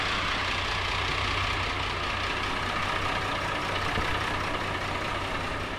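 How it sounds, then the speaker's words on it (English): A 1999 Ford F350 Powerstroke diesel truck with a high-pressure oil pump leak idles in neutral, a steady low rumbling drone with an even hum that holds unbroken and fairly close throughout. "That idles a little bit."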